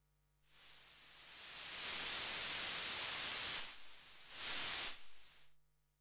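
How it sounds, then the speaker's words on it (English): A Eurorack modular synth noise source gives off broadband white noise, hissing in smoothly, swelling to a loud steady wash, dipping briefly, surging again, then fading out. "and a noise source."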